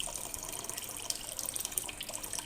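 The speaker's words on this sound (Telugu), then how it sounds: "నేనైతే ఈ టబ్ సహాయంతో కొన్ని వాటర్ అయితే వేసుకుంటున్నాను." Water poured from a tub into a home aquarium gives a continuous splashing, trickling rush with bright spattering edges, steady and close at moderate level throughout, with no voices.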